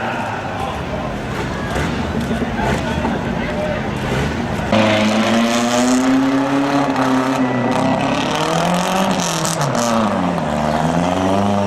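On a county fair rough truck course, a four-wheel-drive off-road truck stuck with tire trouble revs hard, its engine rising and falling in pitch while an announcer talks over it.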